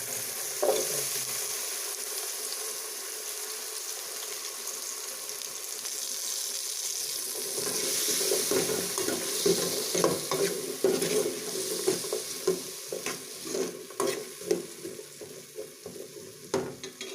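Cubed taro and potatoes hit a pan with onions and sizzle, then are stirred with repeated scraping clatters of a utensil over a steady frying hiss, close and moderately loud, no talk.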